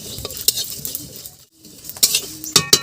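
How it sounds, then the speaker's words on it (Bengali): Coriander seeds, cumin, dried red chillies and radhuni are dry roasted in a wok, with scattered scraping stirs and metallic clinks of a spatula against the pan, close and intermittent, plus a brief quiet pause midway. "শুকনো কড়াইতে দিয়ে দেব কিছু ধনে, সাদা জিরে, শুকনো লঙ্কা আর অল্প কিছু রাঁধুনি। এবার এইগুলো একটু ভেজে নেব।"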